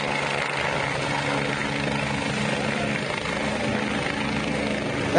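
A minister's helicopter comes down onto a helipad, its rotor thrum loud, close and continuous throughout.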